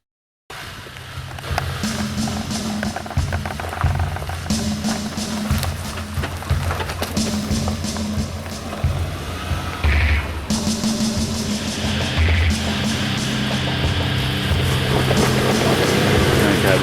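A Suzuki Grand Vitara pulls away as its wheels slip and traction control cuts in, giving a steady engine drone with rough tyre scrabbling and cabin noise before the car accelerates away.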